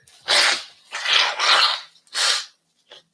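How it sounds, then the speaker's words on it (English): A person sneezes: a wind-up sharp burst, another forceful sneeze, then a short final exhale, close and loud with no talking. "Hold on, I got to sneeze."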